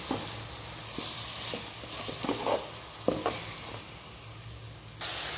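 Tomatoes with salt cooking in a pan for a village-style country chicken curry: a soft, steady sizzle with occasional stirring knocks and scrapes, close but quiet, and no voices.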